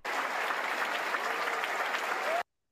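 A music festival audience breaks into sustained applause for the conductor and band arriving on stage: dense, steady crowd clapping at even loudness that cuts off abruptly.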